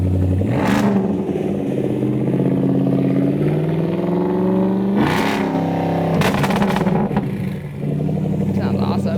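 A race car engine revs loudly up close, sharp rising bursts over a steady idle rumble, with voices chatting under it.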